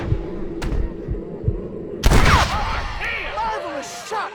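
A single sharp gunshot cracks loudly in a Red Dead Redemption western shootout, preceded by faint thumps and followed by lingering rumble and scattered game sounds.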